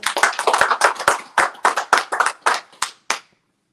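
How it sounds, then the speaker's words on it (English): A small group claps for graduates, about a dozen sharp, close hand claps in an uneven rhythm that taper off and stop near the end. "Let's clap it up for them."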